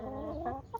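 Backyard chickens foraging in grass clippings cluck close by, a short run of raised, warbling hen calls at moderate volume with no talk.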